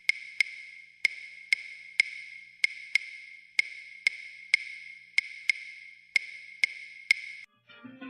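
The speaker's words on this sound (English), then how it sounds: "This is the clave rhythm that you probably heard so much about, the underlying rhythm that makes salsa music feel so different." A salsa clave rhythm tapped out alone as sharp, dry wooden clicks in an uneven pattern, repeating several times at moderate volume before stopping.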